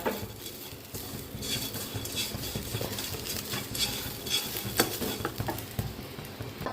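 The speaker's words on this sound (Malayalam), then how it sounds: "ഈ തേങ്ങ നമ്മൾ വറുത്തെടുക്കാൻ കുറേ നേരം ഇങ്ങനെ നിൽക്കേണ്ടി വരും" Grated coconut roasting in a pan while being stirred, giving a steady soft sizzle and patter with repeated scraping strokes of a spoon against the metal, close and moderately quiet throughout, no voices.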